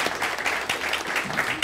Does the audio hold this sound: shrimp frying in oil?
no